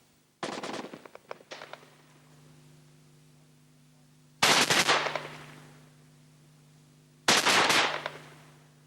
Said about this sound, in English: Trials have shown that the LSW firing concentrated bursts penetrated concrete and brick as fast as GPMG firing bursts.